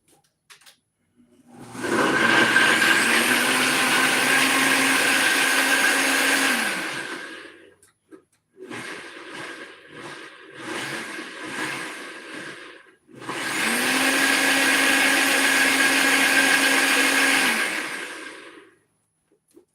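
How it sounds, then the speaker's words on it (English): A Nutribullet blender runs in two long, loud bursts, with a short stretch of choppy, intermittent pulsing between them, and no voices over the motor. "Nutribullet is strong. I did crack it, and it's working."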